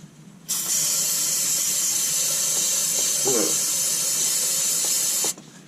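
A steady, loud hissing spray runs for about five seconds, starting and stopping abruptly, with faint handling noises underneath.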